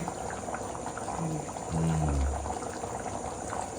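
A pot of rice for chicken biryani boils vigorously close by, bubbling and seething steadily, with a low burbling swell in the middle, no voices present.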